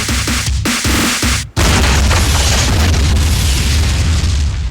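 A Hollywood-style explosion in a Thai movie trailer: after a few rhythmic hits, a loud boom erupts and rolls on as a sustained, dense roar to the end.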